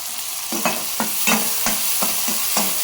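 Onion and tomato frying in a pan for a moth bean curry, a steady sizzle broken by about eight rhythmic stirring scrapes, close and fairly loud with no voices.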